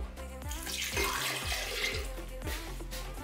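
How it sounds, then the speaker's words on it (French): Water poured from a glass into a blender jar while preparing a semolina recipe, a steady splashing, gurgling pour that runs loud and close for about three seconds with no talking. "Voici le deuxième verre d'eau."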